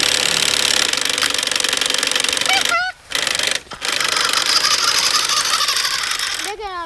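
A New Bright Bigfoot RC monster truck's electric motor whirs and rattles in the snow, a loud buzzing mechanical drone broken by two brief drops, with people talking over it.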